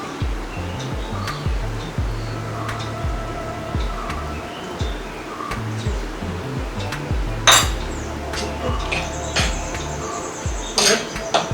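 Prawns being mixed by hand with chilli powder and turmeric in a bowl for prawn curry, giving steady soft squelching and scraping with occasional sharp clinks against the bowl, over low background noise.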